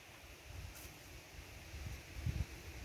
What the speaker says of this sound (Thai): ลมหึนหึนพี่น้องเลย